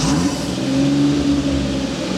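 A farm engine revs as the throttle is opened, giving a loud, steady mid-pitched drone that holds for the full length, with no talk over it.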